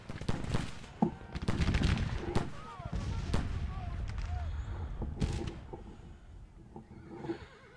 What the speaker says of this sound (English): brigades firing into you.